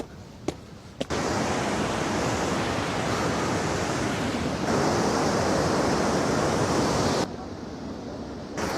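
Bow River waterfall, roughly 30 feet high and 100 feet wide, roars with a steady, loud broadband rush of falling water that swells midway and drops slightly near the end, with no talking.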